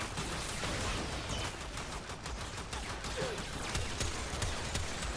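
Gunshots in Warframe from an Astilla shotgun, a busy stream of sharp cracks and impacts in rapid bursts over a constant layer of game noise, with no voices.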